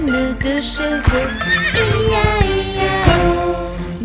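Horses whinnying in a French children's farm song about Mathurin's farm: loud, close neighs rising and falling in pitch, one after another, with faint hoof clip-clops between them.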